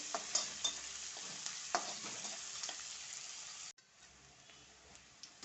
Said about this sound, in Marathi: कांदा छान गुलाबी रंग होईपर्यंत परतून घ्यायचा आहे